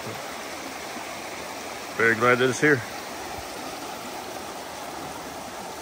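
Steady rushing of a shallow creek at a trail crossing near Avery Creek and Twin Falls in Brevard, North Carolina, continuous broadband flow with a brief spoken remark over it partway through.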